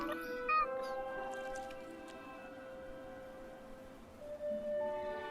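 A tame cat in the ruins of the video game Forspoken meows a few times, faint and intermittent, over a steady musical soundtrack and game ambience.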